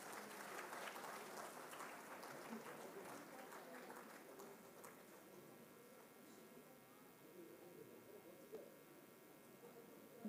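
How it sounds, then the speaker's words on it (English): An audience in a convention hall applauds winners at a youth consultation event, continuous clapping that starts strong and gradually thins out, heard at a distance with a low room hum beneath. "Can we have a big round of applause for our winners?"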